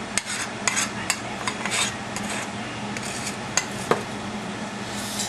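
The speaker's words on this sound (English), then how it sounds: "Make sure the meat and stuff gets coated nice with the" Beef and vegetables stirred with a utensil to coat them in slow cooker stew seasoning powder: close scraping and shuffling strokes with a few sharp clinks against the pot, over a faint steady sizzle, no talk.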